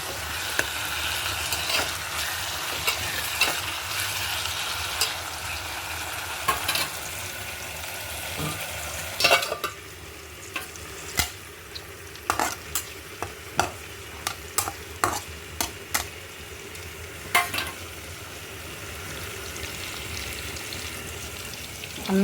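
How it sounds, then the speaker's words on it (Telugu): Broad bean (chikkudukaya) curry sizzling and bubbling in a pan, a steady cooking hiss broken by repeated sharp clicks and scrapes of a spoon stirring against the metal, close and fairly loud. "కూర కూడా ఉడుకుతుంది ఫ్రెండ్స్."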